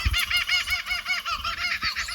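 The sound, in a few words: kookaburras calling in the background at a campsite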